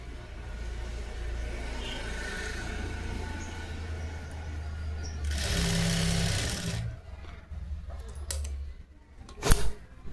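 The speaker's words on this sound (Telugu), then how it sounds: "దీన్ని కుట్టు వేసేసుకోండి." Sewing machine stitching a blouse, a rapid mechanical whirring that runs steadily, then louder for a burst mid-clip before trailing off into brief clicks and handling noises, close and with no talk.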